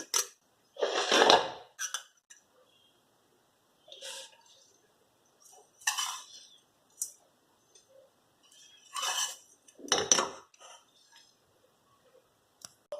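A roasted dry fruit and coconut mixture for barfi is scraped from a pan onto a plate in scattered short metallic scrapes and clinks with quiet gaps between them.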